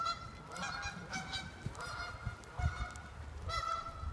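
A flock of geese honks over and over along an outdoor walking path, a steady chorus of overlapping nasal calls at moderate distance with no talk.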